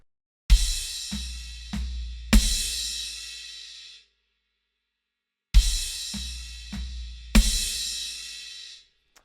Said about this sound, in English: I've got a crash, an accented snare and the bass drum